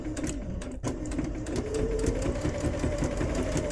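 Sewing machine stitching a quilt block seam, a rapid close mechanical needle chatter with a continuous motor whine that steadies and runs on without pause.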